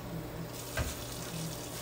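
Warm water pours steadily from a tap into glass canning jars, a soft continuous hiss and splash with faint clinks, heard alone without talk.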